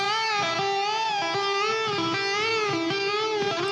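A single sustained electric guitar note, string repeatedly bent up and released without a whammy bar in a steady pattern, loud and close with no voices.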